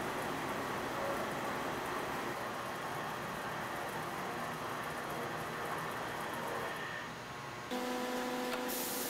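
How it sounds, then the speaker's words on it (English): Accu Systems CXT CNC machine traversing into position: a steady mechanical whir and rumble of axis motion that changes pitch as it stops near the end. "This shows the traversing side of the machine moving to position."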